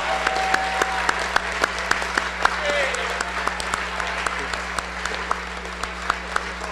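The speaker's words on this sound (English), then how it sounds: "everyone give them a round of applause" Applause at a high school NCAA signing day ceremony, given for parents of the class of 2015, runs steadily with sharp individual claps standing out close by and a faint voice under it.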